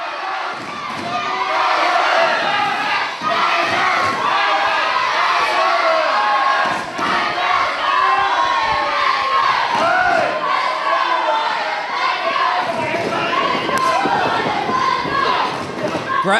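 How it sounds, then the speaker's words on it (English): Loud, sustained crowd roar at a live pro wrestling event, with shouts and cheers swelling and dipping continuously throughout, close and enveloping, and a few thuds mixed in. "Listen to this crowd right now."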